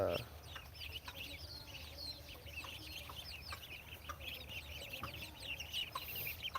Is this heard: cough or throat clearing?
no